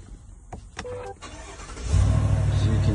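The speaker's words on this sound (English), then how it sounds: "All right, let's start the truck." A 2024 Chevy Tahoe is started after a few clicks and chimes from the key and cabin; the starter briefly cranks, then the engine catches into a steady, close idle rumble.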